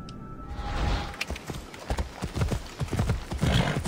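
Horse hooves clip-clopping at a steady trot during riding in the video game Assassin's Creed Odyssey, rhythmic and close, with faint background ambience and no talking.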